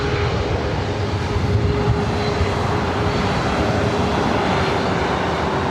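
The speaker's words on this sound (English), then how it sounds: "Let's get up close and personal with an A321neo with Delta." A Delta Airbus A321neo jet rumbles close by at Los Angeles airport, a steady dense engine roar with a faint tonal hum running underneath, no talking.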